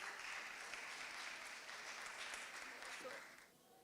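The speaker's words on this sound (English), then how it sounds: "let's just give her a round of applause and call her up" A small crowd at a Friday chai night claps for a storyteller coming up to perform, steady applause lasting several seconds before thinning and fading out.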